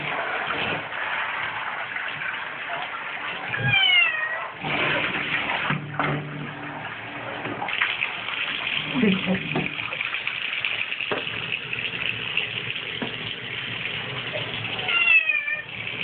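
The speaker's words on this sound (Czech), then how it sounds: "bude krásná čistunká kočička" A cat meows repeatedly while being bathed under running tap water, its cries rising at intervals over the steady gush and splashing of the faucet; a person speaks softly now and then.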